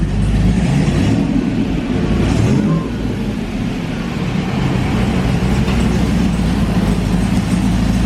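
A hot rod engine idles slightly lean, a loud steady low rumble that holds evenly throughout with no talking.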